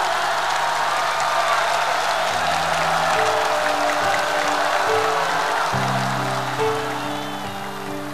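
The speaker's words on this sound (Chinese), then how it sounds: "掌声欢迎！" Audience applause and cheering at a concert in Wuhu fill the hall as a broad, steady wash of clapping, while a soft band intro with low sustained tones begins underneath and continues through.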